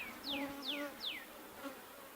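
Agitated honeybees hum in a low steady drone, with a few sharp descending whines cutting through at a quiet, close range.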